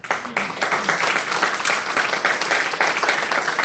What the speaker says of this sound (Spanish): Denle un aplauso a la madre, se lo merece.